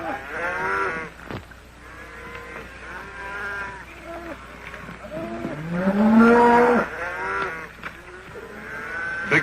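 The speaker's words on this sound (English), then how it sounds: "Here comes the cattle." Range cattle in an old Western setting moo repeatedly, several long drawn-out lowing calls overlapping near and far, with a loud burst in the middle of the herd noise.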